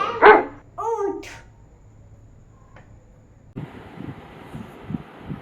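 A dog barks a few times up close at the start, then a stretch of quiet before louder background noise and knocks fill the end.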